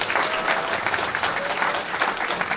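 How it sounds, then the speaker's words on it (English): Steady, full applause from an audience in Keswick welcoming guests, even and continuous clapping throughout. "give a warm welcome to them in a normal Keswick way with a big show of applause"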